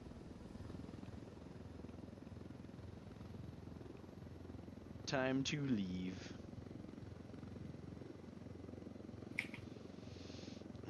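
A helicopter hovers and flies in the video game Ghost Recon: Wildlands, a steady low rotor drone throughout, with a short spoken line midway and a brief click near the end.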